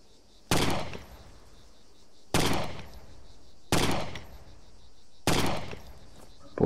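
Gunfire in a video game: four sharp single shots spaced a second or two apart, each with a short ringing tail, loud and close, with no talk.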